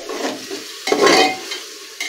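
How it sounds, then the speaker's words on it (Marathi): Fresh curd stirred and fried in oil in a pan while cooking paneer biryani, giving a soft continuous sizzle with scraping stir strokes and a louder surge near the middle, close up with no talking. "दही हलकंसं परतून घ्यायचं"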